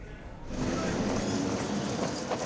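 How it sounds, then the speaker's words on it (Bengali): A train approaches a level crossing in Bangladesh, its loud, steady rumble swelling after the first half second and holding close and continuous. "ট্রেন আসার শব্দেই গেটম্যানদের তাড়াহুড়ো।"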